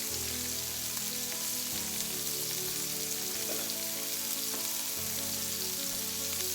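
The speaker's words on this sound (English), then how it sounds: "I'm going to cook our onions and peppers first, get those cooked down, put the meat in, get that warmed up." Onions, peppers and already-cooked meat fry in a pan with a steady, dense sizzle and crackle that holds evenly at close range, alone and without speech.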